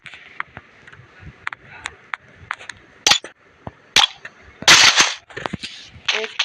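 Sharp, sparse shotgun blasts and clicks in the mobile game Free Fire Max, several spaced bursts with a louder cluster in the middle, close and crisp over faint background.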